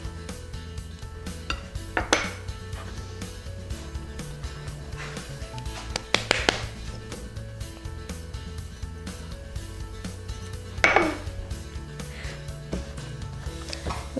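Monster cookie dough being mixed in a bowl as sugars go in, with steady scraping and several sharp clinks of a utensil against the bowl over a low background hum, and no talking.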